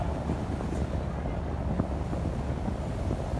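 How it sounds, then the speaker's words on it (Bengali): A Dhaka–Chandpur passenger launch passes on the river amid a steady low rumble of engine and water, with heavy wind buffeting the microphone throughout. "এটা ঢাকা চাঁদপুর ইগল 3 লঞ্চ। এটা যাত্রী নিয়ে আসতেছে"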